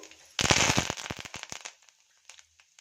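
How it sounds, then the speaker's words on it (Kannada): Mustard seeds splutter in hot oil, a sudden dense burst of sharp crackles and pops that thins to scattered pops over a couple of seconds. "ಸಾಸಿವೆ ಚಟಪಟ ಅಂದಿ. ಸಾಸಿವೆ ಸಿಡಿದಾದ್ಮೇಲೆ ಜೀರಿಗೆನ ಸೇರಿಸ್ಕೊಳ್ಳೋಣ."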